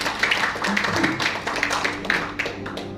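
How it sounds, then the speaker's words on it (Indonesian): A church congregation at a Sunday service clapping their hands, a loose, uneven stream of claps of moderate loudness that thins toward the end, with a faint voice underneath. "Tepuk tangan lebih besar saudara."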